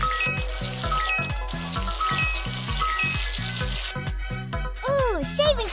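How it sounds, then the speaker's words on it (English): Steady hiss of a water spray rinsing soap off an animal in a cartoon pet hair salon game, running continuously under bouncy, rhythmic game music with chiming sound effects near the end. "Now rinse the soap off."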